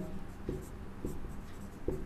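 Pen or chalk writing on a surface during a maths lesson, a few short scratchy strokes spaced apart, close and fairly quiet, with a sharper tap at the end.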